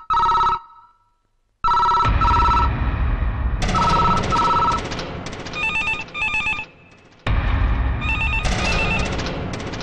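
A telephone at a police station rings on unanswered in loud, repeated electronic trills. The bursts are broken by short pauses and a busy background.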